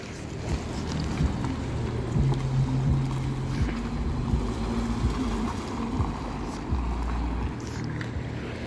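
A Volvo car pushing through a flooded road junction at Strelley village, a continuous wash of churning water and engine rumble close by, with low tonal hum and splashing surges.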